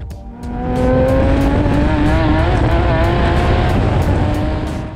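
Z1 Motorsports Nissan Z race cars run laps at the Talladega Grand Prix circuit, a loud, sustained engine roar with rising and falling revs as cars pass close by, no talk over it.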